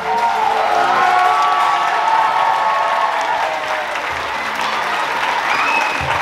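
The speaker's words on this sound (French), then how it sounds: "donc on peut vraiment les applaudir" A crowd applauds the pupils of Rongy's communal school after their circus show, in sustained, loud clapping with some cheering and a few scattered voices mixed in.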